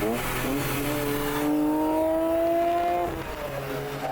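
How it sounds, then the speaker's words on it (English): A Ferrari Testarossa and a Honda NSX drive through the hairpins of the Stelvio Pass in the Alps. A loud, sustained engine note climbs steadily in pitch as it revs, then settles, with no voices. "me piloting a Ferrari Testarossa as we conquered every twist and turn of the Stelvio Pass"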